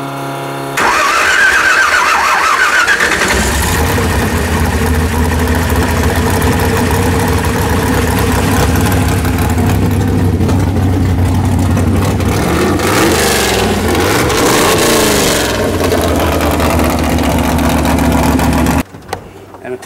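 Race engine with an old, cracked setup cranking and firing into a loud, rough, steady idle nearby, with a blip of revs midway before it shuts off.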